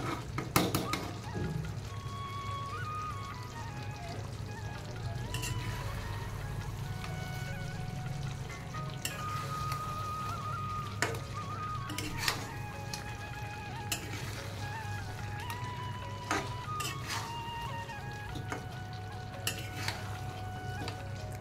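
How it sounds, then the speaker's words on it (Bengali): Chicken frying in a pot for biryani, stirred with a utensil: a continuous sizzle under repeated scraping and clinks of metal against the pot, with small knocks scattered throughout and no voices. "এটা একটু আমি নাড়াচাড়া করে নিই"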